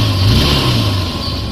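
A Honda CB Unicorn motorcycle engine, started with a button, runs close by with a brief rev swelling and easing back toward a steady mid-pitched idle, alone with no talk.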